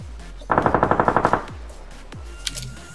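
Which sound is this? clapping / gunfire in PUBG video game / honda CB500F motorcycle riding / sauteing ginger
gunfire in PUBG video game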